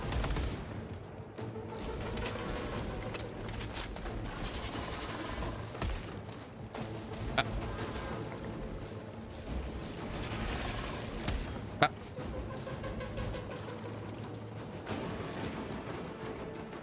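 Gunfire from the video game Warhammer 40,000: Space Marine 2: dense, sustained volleys of shots and mechanical clatter with a couple of sharper bangs, continuous and fairly loud throughout, with no talk.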